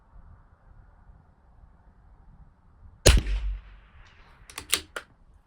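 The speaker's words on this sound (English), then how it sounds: "Load these two up. And blast away again. 2 rounds." Two sharp gunshots fired at targets, one loud crack followed by a short rumbling tail, then a quieter pair of reports a moment later, close by with faint wind noise before.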